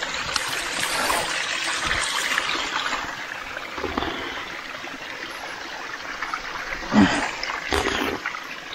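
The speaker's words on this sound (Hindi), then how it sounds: "एक पानी का झरना आया है" A small waterfall stream in a jungle spills over slippery rocks, giving cold water a continuous splashing rush close by, with a few louder splashes and gurgles along the way.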